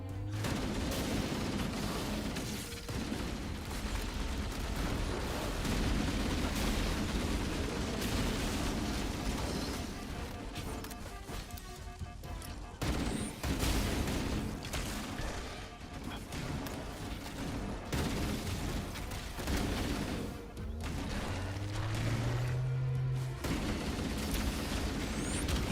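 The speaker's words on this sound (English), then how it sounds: "I had to chuck a nade in there myself." Grenade blasts and bursts of gunfire from the video game Halo, rendered as dense, continuous combat noise with booms and crashes filling the whole stretch, and a tone sweep near the end.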